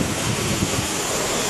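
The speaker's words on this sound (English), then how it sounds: "The ocean." Ocean waves produce a dense, steady roar of surf with a rushing, windy wash throughout and no voices.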